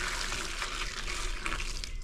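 Boiling water pours in a steady, splashing stream for a couple of seconds, close by and fairly loud, with no talking, while testing a BMW M50 engine thermostat.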